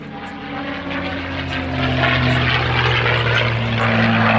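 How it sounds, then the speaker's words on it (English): A North American P-51D Mustang, the 'Tall In The Saddle' airframe, flies at an air display at Yeovilton, its propeller engine a steady loud drone that swells gradually as it approaches, with no talk over it. "the P-51 had well and truly established itself as one of the most effective bomber escort fighters of World War II"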